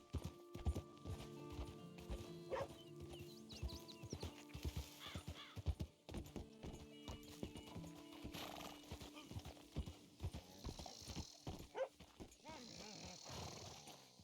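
Horse hooves clip-clopping in a steady rhythm in the video game Red Dead Redemption 2, close by, with a whinny and other animal sounds mixed in.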